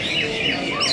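Songbirds sing at a bird-singing contest, with dense overlapping chirps and warbles from several birds filling the scene continuously at close range.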